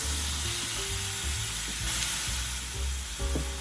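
Thinly sliced beef and green onions sizzle in a hot pan for a sukiyaki rice bowl, a steady, close, crackling fry with light stirring clinks and no talking.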